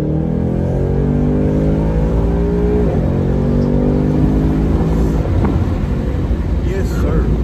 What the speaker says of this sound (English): Bro, that was a downshift.